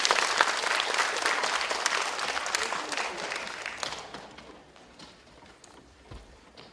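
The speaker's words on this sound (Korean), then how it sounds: "아낌없는 박수를 부탁드리면서" Audience applause at a children's composition showcase concert in Gimhae, a dense burst of clapping that starts loud and gradually thins and fades over several seconds.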